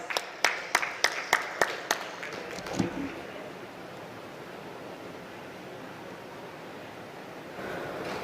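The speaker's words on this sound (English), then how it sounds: "Let's welcome him with a round of applause" A crowd at the KTEA Golden Jubilee textile event in Karur applauds to welcome the MSME Minister to the stage: a few sharp claps at first, then a steady, moderately loud wash of clapping that lasts throughout.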